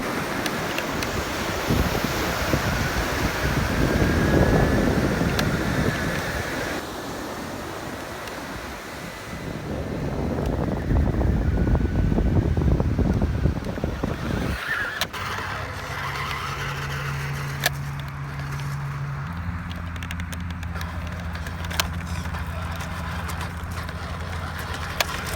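A 1982 Nikko Hilux 1/10-scale 4WD RC truck makes a high-speed run outdoors, its motor whine and tire noise rising loud and rushing through the first half, with wind buffeting the microphone before a steadier, quieter hum takes over.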